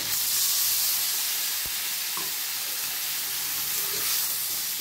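Ground spice paste sautéing in a pan for a rui fish curry, giving a steady broadband sizzle and hiss that runs evenly through the whole stretch with no voices.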